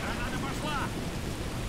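Wind and rain roar steadily in a Call of Duty: Modern Warfare 2 mission, a dense wash of gusting air and pattering downpour with a faint voice briefly over it.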